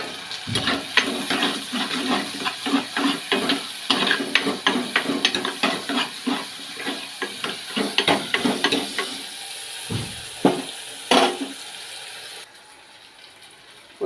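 Sliced onion and tomato with green chillies fry in a pan for a Tamil fish curry. A steady sizzle runs under quick, rhythmic scraping strokes from stirring, then settles to a quieter hiss at the close.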